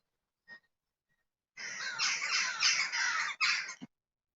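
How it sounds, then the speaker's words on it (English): Crows cawing as they fly overhead outdoors: a brief faint call, then a loud burst of harsh, overlapping caws lasting about two seconds, a short pause and a final caw, with no talk. "And some birds just flying overhead there, some crows."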